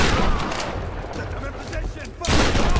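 Shotgun blasts in Tomb Raider (2013) come as dense, booming gunfire that fills the whole clip, with one fresh loud blast near the end, heavy and close.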